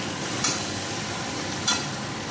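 Food sautéing in a pan with a steady, moderately loud sizzle throughout, marked by two brief clinks of a utensil against the pan.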